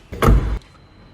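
The boot lid of a Volkswagen Vento is shut with one solid, close-up thud, a brief dull slam followed by quiet.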